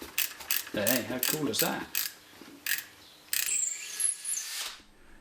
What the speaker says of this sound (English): if you want to move it, you jack it up again and it's back on casters